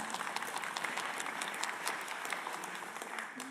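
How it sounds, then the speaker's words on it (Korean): Congregation applause at an Easter Sunday church service, a dense, fairly faint wash of scattered claps that holds steady without a break. "네 이렇게 박수 시도 때도 없이 너무 좋습니다"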